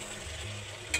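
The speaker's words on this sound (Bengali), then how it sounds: "আস্তে করে নেড়ে নেব যাতে মাছগুলো ভেঙে না যায়" Fish curry with mustard paste and coriander leaves being gently stirred in a pan, a brief soft scrape over a low simmering sizzle, ending in a short brighter clink.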